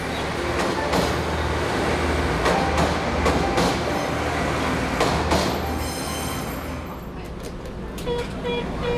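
A narrow-gauge Pingxi railway train in rural Taiwan rolls along the tracks with a loud steady rumble, rhythmic wheel clacks and occasional squeals, heard close from on board, with a narrating voice over it.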